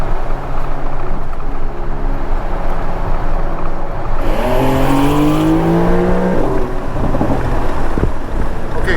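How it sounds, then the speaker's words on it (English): A car passes on a road, its engine and tyre roar swelling and sliding in pitch as it goes by, loud and close over steady wind buffeting the microphone, with no talk. "you gotta wait till the car goes by"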